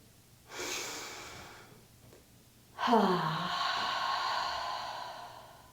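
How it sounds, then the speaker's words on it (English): Two deep breaths during a mermaid flow yoga session: a shorter airy breath, then a longer, louder inhale that swells and holds, close and alone. "Take a deep inhale."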